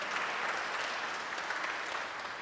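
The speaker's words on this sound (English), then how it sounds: "can we have another big round of applause for them presenting this music and partnering with" A concert audience claps in a steady, dense wash of applause that stays even and moderately loud throughout, heard from within the crowd at a jazz concert in St. Paul's Chapel, New York City.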